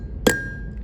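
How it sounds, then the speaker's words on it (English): A single solid hammer whack rings out close and sharp against metal, leaving a brief ringing tone that fades, heard while adjusting a pawl. "I'm going to grab my hammer. I'm going to give it a whack."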